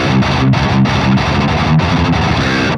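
Electric guitar through a Bogren Ampknob amp plugin with a tight, percussive distorted tone, playing a steady chugging rhythm riff with clipped palm-muted stops, loud and alone.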